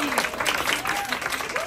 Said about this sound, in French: Rosalie, bonne main d'applaudissement pour Rosalie qui a tout organisé.